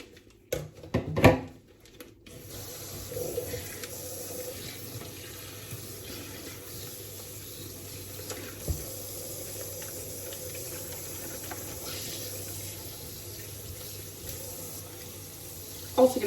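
Tap water runs steadily into a kitchen sink while meat roasts are rinsed, a continuous close hiss and splash lasting many seconds, with a few clunks of handling near the start.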